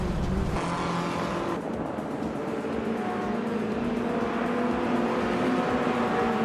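A 1987 Ford Sierra S500 Cosworth, a turbocharged classic, races with other cars in a video game, giving a dense, continuous engine roar with layered whining tones and a brief change in pitch early on.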